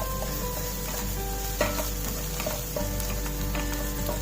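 Onions frying with ginger garlic paste in a pan for a long beans masala curry, a steady close sizzle with occasional stirring clinks and scrapes, no voices.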